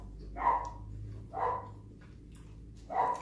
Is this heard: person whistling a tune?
no